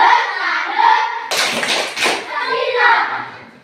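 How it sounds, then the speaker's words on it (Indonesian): A class of schoolchildren claps together in a burst of quick, rhythmic slaps lasting about a second, with children's voices talking before and after. "Semua berdiri. Tepuk salut."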